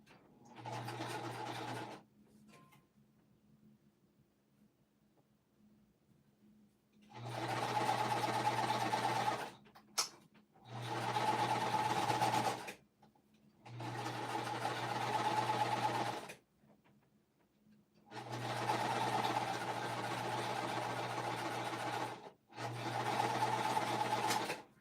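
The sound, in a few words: sewing machine sewing cotton fabric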